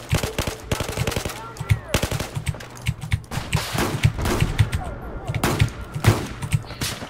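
Rapid machine-gun bursts and single gunshots in Battlefield 4 combat, loud, close and repeated in clusters, with footstep-like thuds between volleys.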